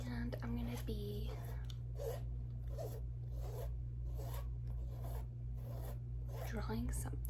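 A pencil scratches across notebook paper in short, close, repeated strokes, a soft rasping rhythm with brief pauses between bursts, set in a quiet, intimate room.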